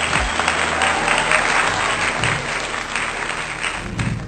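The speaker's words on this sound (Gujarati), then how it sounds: "જોરદાર તાળીઓ." Loud, sustained applause from a crowd at a Kuntiwad Brahmin community family gathering in Ahmedabad, steady dense clapping throughout with no pauses.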